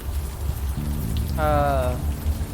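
Steady rain patters through the street ambience of the video game Unavowed, a continuous close wash of drops with a brief voice rising over it partway through.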